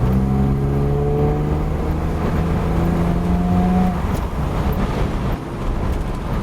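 A BMW E30's engine, driving through its ZF 4HP22 EH automatic gearbox, hums steadily with a rising tone that eases off around the shift, then continues as a rougher, broader drone close by, with no talk.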